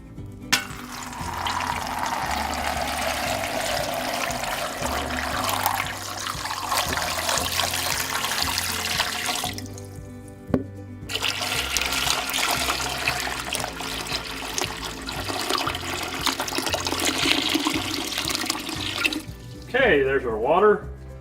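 Water runs steadily into the bottom of a canning pot for smoking and canning kokanee salmon, a continuous splashing rush that breaks briefly midway and then carries on to a short pause near the end.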